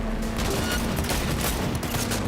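Sustained automatic gunfire in the game Cyberpunk 2077, a loud, dense barrage of rapid shots without pause, heard close up with no speech.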